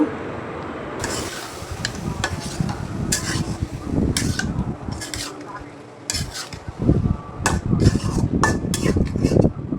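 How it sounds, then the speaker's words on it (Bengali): Potatoes and eggplant are sautéed in spice paste in a pan, with a spatula scraping and clanking repeatedly against the metal over a soft sizzle and the hum of a fan. "এখন হচ্ছে আলু বেগুন এগুলো দিয়ে দিচ্ছি, এগুলো একটু ভালো মতো কষিয়ে নিব"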